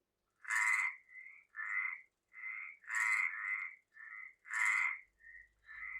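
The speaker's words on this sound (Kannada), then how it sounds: "ಕಪ್ಪೆ ಹೇಗೆ ಈ ರೀತಿ ಶಬ್ದವನ್ನ ಮಾಡುತ್ತೆ" A frog croaks repeatedly and close by, in a series of harsh, resonant calls of varying length separated by short pauses.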